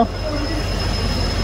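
A train rumbles steadily nearby, with a continuous low roar and a faint high-pitched wheel squeal running throughout.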